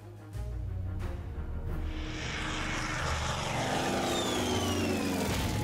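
Propeller-driven military aircraft in a WWII Pacific strategy game, Japanese forces, a steady loud engine drone that swells and holds, with a rising whine and no talking.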